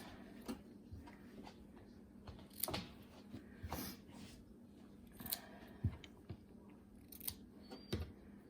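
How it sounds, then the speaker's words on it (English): Scissors snip the fabric corners of a sewn pleated face mask, giving several faint, separate clicks and cuts at irregular intervals against a quiet background. "Then clip your corners."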